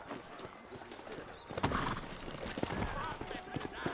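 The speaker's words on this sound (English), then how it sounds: "You ain't gonna find sturdier horses than these in all of New Albany." Horses' hooves clip-clopping on a dirt street in the Western video game Red Dead Redemption, a steady rhythmic patter at mid distance, with chirping birds and other background sounds around it.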